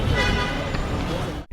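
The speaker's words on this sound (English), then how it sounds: "Everybody's yelling and honking and pushing" A car horn blares in a sustained, loud toot over the rumble of traffic on a busy street in Egypt, ending abruptly.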